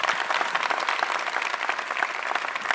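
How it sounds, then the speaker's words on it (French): Audience applause at a French-language stage show, dense steady clapping from a crowd that stays loud and even throughout, with no voices over it. "sur vos applaudissements encore"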